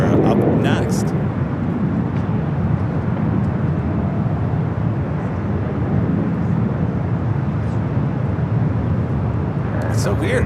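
Boeing 787 Dreamliner jet taking off at LAX, a loud sustained engine roar with deep rumble that stays strong and steady throughout, with faint voices now and then.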